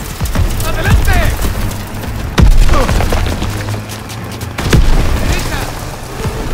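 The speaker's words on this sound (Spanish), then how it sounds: "¡Nos disparan!" Gunfire and explosions in Call of Duty: WWII, loud booming blasts and rattling shots repeating over a dense battle din while soldiers shout in Spanish.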